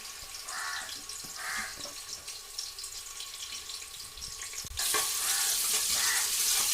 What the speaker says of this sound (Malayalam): വെട്ടി സവാള ഞാൻ ഇതിക്കിട്ടു കേട്ടോ